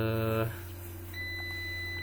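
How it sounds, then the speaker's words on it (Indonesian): A Vertiv Liebert GXT MT+ UPS sounds a pre-alarm after its input power is cut. A short loud electronic beep tone comes first, then a steady faint hum with a thin high whine. "ada notifikasi ya, P1 cut off pre alarm"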